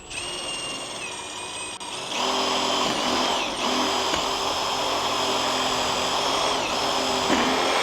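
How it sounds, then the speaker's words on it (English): A power drill fitted with a bit starts with a quiet whine, then runs up to a loud, steady high-pitched whir that continues to the end, with slight pitch dips as it bites into the material. "let me get my drill"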